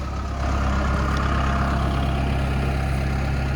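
Kubota X1140 tractor engine running, a steady low diesel rumble that holds at an even level close by with no pauses.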